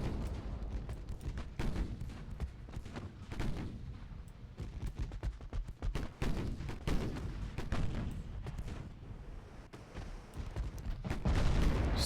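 Naval guns firing volleys in the warship game Ultimate Admiral: Dreadnoughts, a dense run of booming artillery blasts and rumbling reports, repeated irregularly and loud throughout, with rolling low-end thunder between shots.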